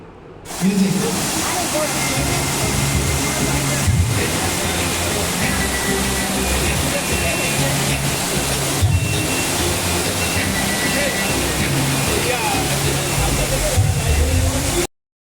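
A decorative waterfall fountain at a park entrance gives off a loud, steady broadband rush of falling water that fills the whole stretch without a break, with a low background rumble underneath.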